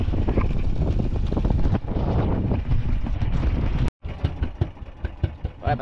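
A boat's motor runs loud and steady close by at sea, buffeted by heavy wind rumbling over the microphone, with a brief dropout midway before the engine drone resumes.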